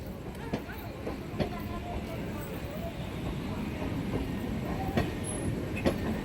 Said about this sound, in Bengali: প্রবেশ করছে আজিমগঞ্জ মেমু কাশিমবাজার স্টেশনের 3 নম্বর প্ল্যাটফর্মে।